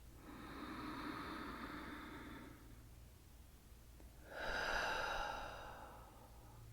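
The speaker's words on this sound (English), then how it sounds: "Let's take another deep breath." A slow, deep calming breath during a soothing breathing exercise: a soft airy inhale lasting a couple of seconds, a brief pause, then a fuller exhale, both close and quiet.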